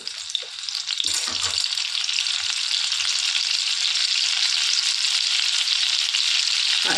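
A piece of garlic and herb butter drops into a hot pan and fries with a steady, loud sizzle that swells after the first second and holds without a break.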